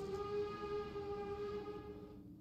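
Train in the video game Fran Bow, a sustained tonal whistle or horn with layered steady pitches over low rumble, fading toward the end.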